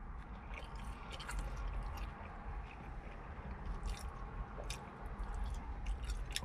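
Soft, wet chewing and squishing of a White Castle slider, with faint crisp bites from the pickle, close but quiet over a low background hum.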